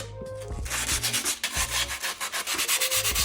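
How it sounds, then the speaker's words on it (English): Excess grip tape being sanded off the edges of a skateboard deck, a close, steady rasping that turns into quick rhythmic back-and-forth strokes, with no voices. "we're going to take some of this extra grip tape that we have and we're gonna sand it down on the edges"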